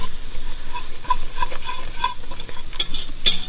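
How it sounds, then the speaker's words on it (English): Flour being whisked into melted butter in a pan for a roux, a continuous close sizzle with rhythmic whisk scraping and light clinks against the pan, no talking. "So I've got my half a cup of flour I'm going to put in here. And you're just going to whisk it for a couple minutes."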